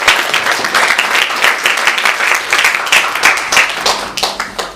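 A church congregation claps during a Sunday worship service to welcome and encourage a young member, a dense burst of hand claps from a room full of people that fades slightly toward the end.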